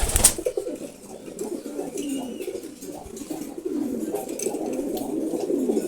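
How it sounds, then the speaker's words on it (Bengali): Male pigeons of about eight breeds, kept in a loft, cooing in a steady low chorus that continues throughout at moderate loudness, with no talking. "এখানে প্রায় আট জাতের কবুতর আছে"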